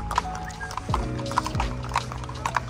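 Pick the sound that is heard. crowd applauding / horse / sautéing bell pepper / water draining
horse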